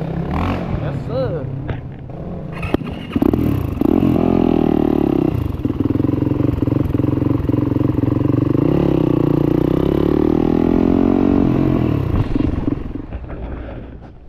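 A turbocharged Yamaha YZ450F supermoto motorcycle rides through Buckhead, Atlanta at night, its engine droning loud and steady with a brief rise in pitch, close and continuous throughout.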